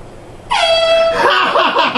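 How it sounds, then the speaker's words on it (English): A loud, sustained air horn blast erupts suddenly and holds steady, with a startled shout breaking in near the end, all close and indoors. "I'm gonna grab my air horn and scare him."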